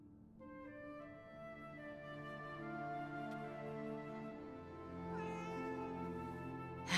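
Cats meow in the Forspoken video game: long, drawn-out, overlapping meows that rise and bend in pitch, set over steady game music.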